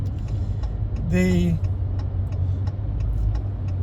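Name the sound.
line of cars in passing traffic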